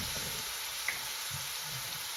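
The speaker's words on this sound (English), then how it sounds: "A tiny bit of oil goes in." Small splash of oil hissing in a hot pan while Kashmiri chili powder is being cooked for a home-style dry chicken tikka bhuna, a steady soft sizzle throughout with one brief tiny pop near the middle, no voices.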